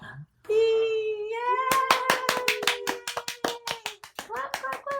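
Clapping at a library storytime: a sung or spoken voice, then a run of sharp, evenly spaced claps close by while the voice carries on over them, with a few softer claps at the end.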